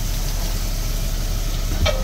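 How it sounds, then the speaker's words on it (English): Steady, close sizzling of sausage frying in a hot cast iron pan, a constant crackle with a low background hum and one brief clink. "Got it nice and sizzling like that."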